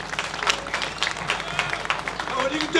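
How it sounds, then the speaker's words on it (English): A crowd at an outdoor protest in London claps and cheers for a speaker, irregular applause with voices mixed in. "Please give him a round of applause"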